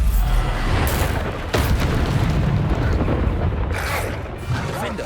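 Bombarda spell blasts in the video game Hogwarts Legacy: deep, booming explosions come one after another with sharp cracking onsets, loud and close in a continuous rumble of combat.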